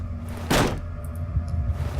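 A single heavy wooden impact as a hammer strikes a box in the video game Penumbra: Overture, a brief thud-crack over a low rumbling ambient drone.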